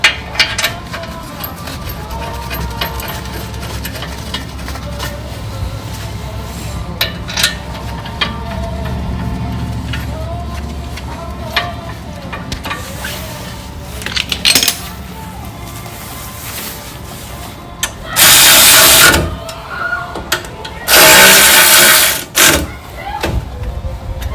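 Caliper bracket bolts are tightened on the front brakes of a Ford Explorer: scattered metallic clicks and clinks, then two loud bursts of tool noise close to the end.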